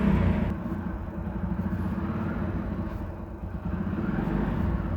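Motorcycle engine running on a two-wheeler chassis dynamometer, giving a steady, loud, rumbling drone that swells and dips slightly while the roller drum spins, with no pauses throughout.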